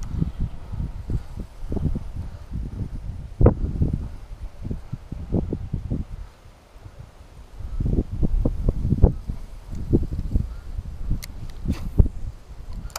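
Steady outdoor wind buffets the microphone at a Florida lake by cypress trees during crappie fishing, with gusty low rumble rising and falling and faint rustling throughout, no talking.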